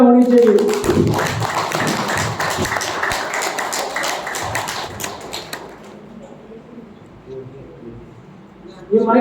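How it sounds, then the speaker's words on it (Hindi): An audience applauds during a talk, loud dense clapping for several seconds that thins and fades, ending as a voice resumes. "तो जोकोविच के लिए जोरदार तालियां होनी चाहिए।"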